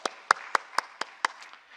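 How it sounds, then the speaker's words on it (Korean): Church congregation clapping together after the Lord's Prayer at a Friday service, six sharp, evenly spaced claps in unison, fairly close and moderately loud, then fading. "할렐루야 우리 하나님께 영광의 박수 올려드립니다"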